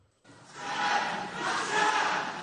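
Families of hostages held by Hamas heckle and boo the Prime Minister in the Knesset, a sustained crowd roar of shouting voices that swells and holds steady after a sudden start.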